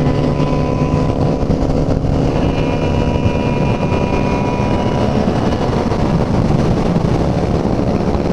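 A sport motorcycle engine inside a tunnel roars continuously at high revs against the rev limiter, loud and close with heavy wind rush and tunnel reverberation.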